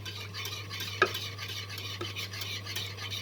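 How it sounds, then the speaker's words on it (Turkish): Béchamel sauce being stirred in a pot gives a steady wet scraping and swishing, with one sharper clink of the utensil against the pot near the start. There is no talk. "Ve krema kıvamına gelene kadar karıştırıyoruz."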